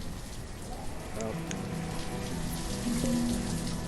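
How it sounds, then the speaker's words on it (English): Steady rain falling in the Banished city-building game, a dense continuous hiss with faint tonal game sounds and a voice talking quietly underneath. "I want no rain. Stop trying to rain."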